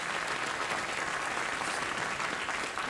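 A late-night TV studio audience applauds in a steady, dense wash of clapping that stays loud and even throughout, with no one talking over it.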